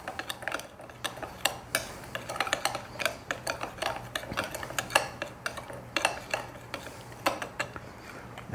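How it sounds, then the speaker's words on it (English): Spoon clinking and scraping in a bowl while stirring sour cream pumpkin cake batter with pumpkin spice, a steady run of light, close metallic taps and scrapes with no talking. "And then I'm going to get me a spoon. And I'm going to mix this all up"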